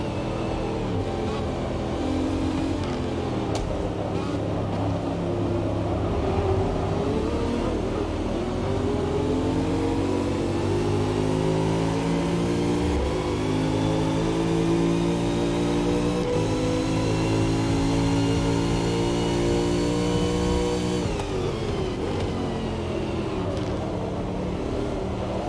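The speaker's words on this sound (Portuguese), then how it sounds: "O motor dele tá falando mais." Race car engine in Forza Motorsport 6 on PC, droning loudly and steadily throughout with rising pitch sweeps as it accelerates along a straight, then a sharp shift near the end.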